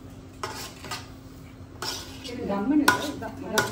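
A spoon scrapes and clinks against a metal cooking pot while stirring Coimbatore biryani masala with green chicken, producing irregular close scraping strokes with a faint sizzle underneath.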